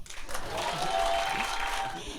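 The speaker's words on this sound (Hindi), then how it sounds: "एक बार जोरदार ताली बजा दो मेरे लिए" A stand-up comedy crowd claps loudly for the comedian, a short, even burst of applause with some talk mixed in.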